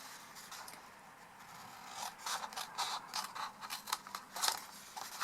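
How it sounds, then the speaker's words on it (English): Scissors cut through paper for a Stampin' Up tealight box, a faint, close run of soft snips and rustling that grows busier toward the end, with no talk. "we're now simply going to cut away"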